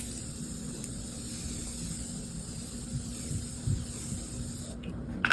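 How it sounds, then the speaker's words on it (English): A soft, steady spray of makeup setting spray hisses quietly for several seconds, with a couple of faint clicks near the end. "She then goes in with her setting spray."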